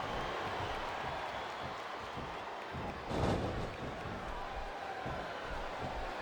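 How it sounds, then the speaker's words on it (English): A large arena crowd in the video game WWE SmackDown! vs. RAW 2007 roars in a dense, steady wash of noise with a brief louder swell, the cheering and murmur blending together. "It sounds like this capacity crowd has something on their minds, Taz."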